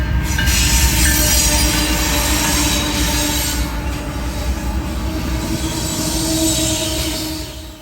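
A rare train rolls past close by, loud and continuous, with grinding wheel noise and squealing from the rails sustained for several seconds before easing slightly at the end.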